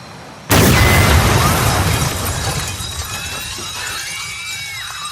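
A sudden loud blast erupts with shattering debris in The Last of Us series, then a long rumbling roar slowly fades, with faint high whistling tones lingering.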